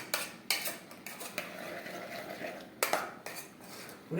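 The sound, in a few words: stirring food in a pot and putting the lid on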